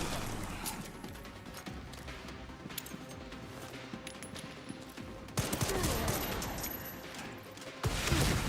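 Video game gunfire in Resident Evil Requiem, dense bursts of rapid shots with crashes, loud and continuous, sharpening into louder volleys near the end.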